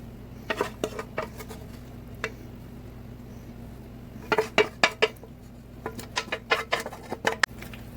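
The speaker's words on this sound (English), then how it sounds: "Listen to that cheese. Mix it all in." A spoon stirs thick cheese sauce for mac and cheese in a pot, making scattered soft clinks and clatters against the metal with short pauses between the stirring bouts.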